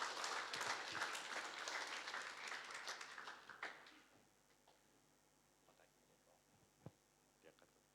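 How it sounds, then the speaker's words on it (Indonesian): A church congregation claps in welcome for a guest speaker at a worship service, a dense patter of hands that fades out after a few seconds, leaving scattered faint knocks and near silence. "mari kita sambut dengan tepuk tangan Pak Samuel"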